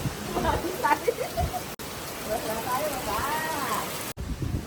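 Steady rain hisses in the background while voices talk over it, with two abrupt brief cut-outs in the sound.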